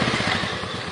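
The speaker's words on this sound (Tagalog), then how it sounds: "Then, pangalawa, start niyo yung motor." A motorcycle engine runs right after starting, a close, rapid putt-putt rhythm that stays loud and steady through the brief moment.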